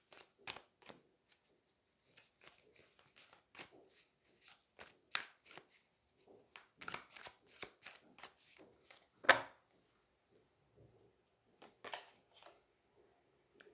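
Tarot cards shuffled and drawn by hand, heard as soft scattered flicks and snaps close up, with a sharper slap near the end and quiet gaps between them.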